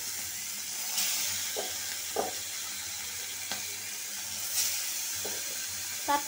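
Tatkini fish marinated in turmeric and salt frying in hot oil, giving a steady bright sizzle with occasional crackles and soft stirring knocks, close and continuous, with no talk.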